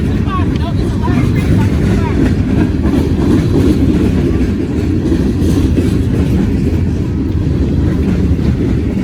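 A freight train with locomotives rolls past close by, a loud steady rumble and rattle of rail cars with clickety-clack wheel noise filling the whole stretch without pause.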